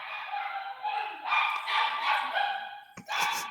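A dog-bark sound effect plays as a run of sharp, bright yips and barks, loud and close, with a brief break near the end before a final bark.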